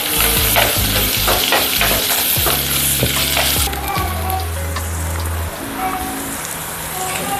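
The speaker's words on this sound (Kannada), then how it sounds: "ಈರುಳ್ಳಿ ಚೆನ್ನಾಗಿ ಫ್ರೈ ಆಗಲಿ" Chopped onion frying in oil with red chillies and curry leaves for millet bisibele bath, a loud crackling sizzle with repeated clattering stirs of a spoon against the pan, easing to a steadier frizzle.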